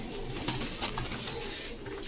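Pigeons coo at a busy pigeon market, a soft continuous murmur of calls blended into dense crowd and room noise.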